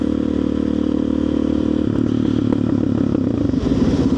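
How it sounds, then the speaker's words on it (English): Motorcycle engine droning steadily and loud on a road, with a slight shift in pitch midway as it pulls a wheelie, alongside some clatter; no talking. "you want to see a wheelie? Yeah, they got a wheelie"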